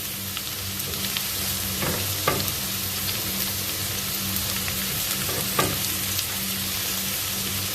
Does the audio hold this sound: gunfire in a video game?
no